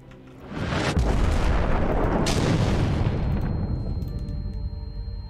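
Deep rumbling explosions in the video game Deathloop swell into a sustained roar, with a sharp blast partway through, then slowly fade into a lingering rumble.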